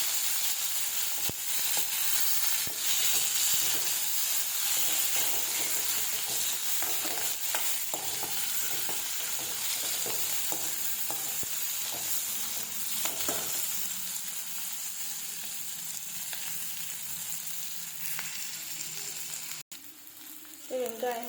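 Sliced onion and bitter gourd sauté in a hot pan with a continuous close sizzle and frequent scraping stirs, easing slightly toward the end, then a brief clatter and pause.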